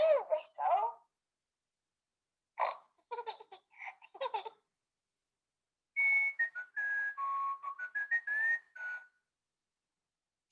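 A Peppa Pig toy, pressed on the tummy, plays giggling sounds and then a sequence of clear, close whistled notes rising and falling in a short tune, with silent gaps between bursts and no talk.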